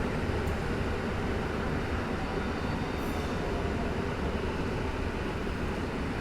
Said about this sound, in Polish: Jest nasz bohater, pociąg z Dęblina do Błonia